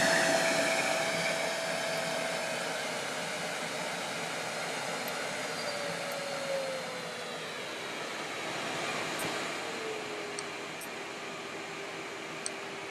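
A Hotpoint SLD10 bagged/bagless trolley vacuum cleaner runs at full power with a steady, even airy rush and a faint shifting whine, alone with no voices.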